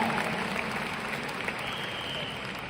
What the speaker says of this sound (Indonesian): saya pinjam tepuk tangan yang paling meriah dari hadirin semua untuk Riway Internasional dan Mr. Lim Boon Hong